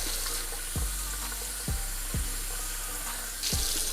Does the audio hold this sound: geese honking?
no